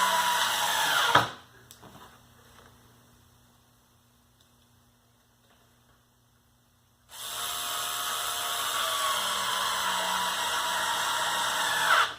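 A power drill drives screws into shelf brackets in two bursts, first a brief loud whir that quickly stops, then after a quiet pause a long, sustained, steady motor drone held close by.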